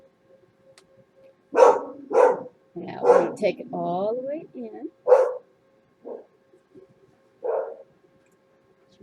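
Pet dogs barking in excited bursts indoors, several sharp barks and yips spaced across the moment, with a person talking quietly between them.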